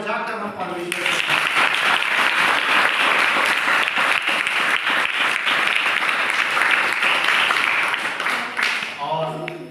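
A church congregation breaks into loud, sustained clapping in praise of God, a dense steady roar lasting about eight seconds before fading, with a voice heard briefly just before and after.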